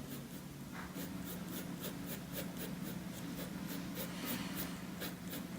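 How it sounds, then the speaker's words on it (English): Steady scratchy strokes of a pencil on paper, repeating in a quick regular rhythm, close up, over a low constant hum. "I'm also going to use some lighter pencils to draw the texture of the hair"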